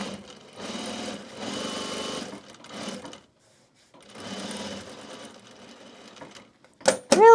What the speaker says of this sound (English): so I'm just going to stitch this in the seam allowance